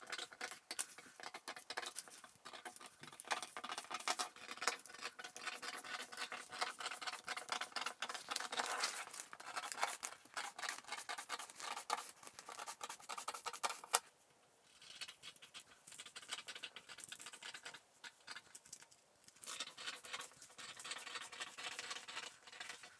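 Scissors cut through fabric for a skirt pattern with a faint, close, crisp snipping and rustling that keeps up in an uneven rhythm with short pauses.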